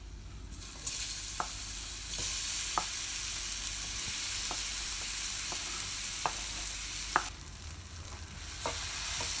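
Chopped banana and raisins sauté in a pan for a bread-and-banana samosa filling, giving a steady close sizzle with repeated sharp spatula scrapes and stirring clicks throughout, no voices.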